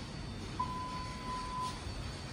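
An elevator chime rings in a thyssenkrupp modernized traction elevator, a thin sustained tone held for about a second over steady car and machinery hum.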